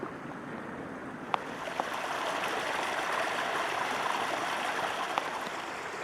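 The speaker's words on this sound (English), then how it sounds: "I was wrong, there was some more running water." Running water of a mountain stream on Buachaille Etive Beag in the Scottish Highlands in August, a steady soft rush and trickle heard alone outdoors with a couple of faint clicks.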